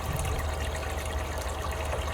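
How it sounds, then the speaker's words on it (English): Water pouring into a jar during a gold-recovery setup, a steady soft trickling rush running without a break, fairly quiet and close. "fill up the jar with water"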